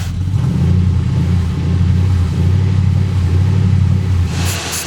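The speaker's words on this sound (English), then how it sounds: "So right now it is literally running on the starter fluid." A car engine that had sat unused for years runs steadily on starter fluid, a loud, close, continuous low rumble holding an even idle throughout.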